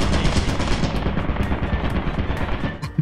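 A turret machine gun fires in the video game Lethal Company, a loud, continuous rapid stream of shots close by with sharp high crackles on top.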